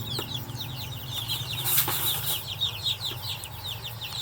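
Betong chickens on a farm in Doi Saket, Chiang Mai, cluck in rapid chattering bursts while wings flap in a brief flurry, a close, busy flock sound with no talking.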